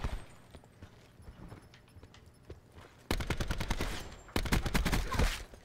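Burst fire from the Swordfish rifle in Call of Duty Black Ops 4 gun game: a quieter scatter of shots early, then two loud, rapid runs of sharp cracks in quick bursts.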